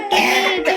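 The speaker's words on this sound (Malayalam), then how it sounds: "ചേച്ചി ചുമ വന്ന" A pair of short, harsh coughs close up, the first longer and the second a quick follow-up after a brief pause.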